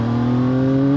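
CF Moto 675 SR-R motorcycle pulling hard in third gear, a loud close engine note whose pitch climbs steadily over one second of acceleration.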